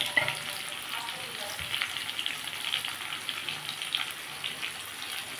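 Ginger garlic paste frying in hot oil for a Bengali potato and egg curry, a steady close sizzle with faint stirring scrapes throughout, no talking.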